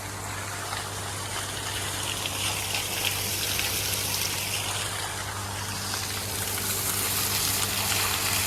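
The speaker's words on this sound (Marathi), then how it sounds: "वॉटरफॉल म्हणजे पाईपतनं पाणी पडतंय फक्त." Water pouring from a pipe into a small village waterfall, a steady close gushing and splashing rush that holds even and unbroken throughout, with no talking.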